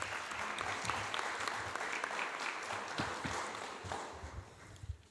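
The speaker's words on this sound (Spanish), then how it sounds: "un aplauso para recibir a Esteban" Audience applause welcoming a speaker at a sociology panel on space and racism at the Universidad de Chile, steady dense clapping from a seated crowd filling the room for several seconds.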